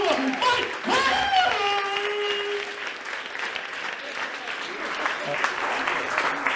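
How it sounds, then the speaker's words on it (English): A Creative Mornings audience bursts into enthusiastic applause for a speaker's introduction, with whoops and cheers over dense clapping that holds steady through the clip. "give a crazy round of applause from the guy not from Oklahoma, Mike Hearne!"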